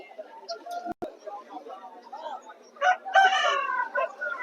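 A rooster at a Vijayawada rooster market crows once, a harmonic rising-and-falling call near the end, following scattered clucks and background chatter from people nearby.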